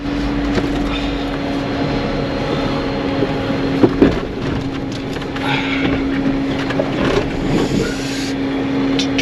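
An off-road vehicle's wheels spinning and digging into rough rocky ground on a mountain pass trail in Alberta, heard as a continuous loud engine drone with a steady tone and scattered crunching knocks.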